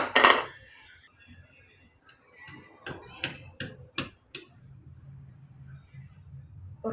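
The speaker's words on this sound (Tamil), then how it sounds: "ரெண்டு மூணு பல் பூண்டு எடுத்திருக்கேன் ஒரு அஞ்சாறு சின்ன வெங்காயம் எடுத்திருக்கேன் இப்போ இதை நம்ம இடித்து எடுத்துக்கலாம்" Garlic cloves and small onions being pounded with a pestle, a quick series of about seven sharp knocking thuds close by after a brief clatter, with soft room noise between.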